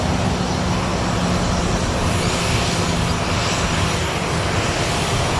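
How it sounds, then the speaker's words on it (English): A Boeing 777 sends a blast of jet exhaust across an airfield, a loud, unbroken roar of engine noise and rushing air that blows a trailer over and holds steady at full strength throughout. "This trailer getting blown over by a Boeing 777 jet blast."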